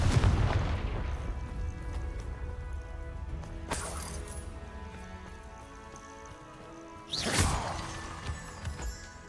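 Confringo and Expulso spell blasts from the Hogwarts Legacy video game, a few sharp booming explosions with crackling tails standing out from a quieter game soundscape.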